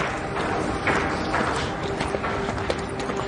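Horse hooves clip-clop in an irregular run of close knocks over a low background rumble in a period drama scene, with no clear talk over them.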